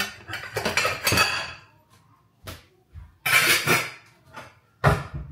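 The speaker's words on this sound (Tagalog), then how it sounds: "Tapos yung hinugasan ko kahapon, hindi ko pa pala naligpit. Kaya ngayon iligpit ko ba." Washed dishes and cutlery are put away in a home kitchen, with clinking and clattering in separate bursts, some louder and some faint, at close range.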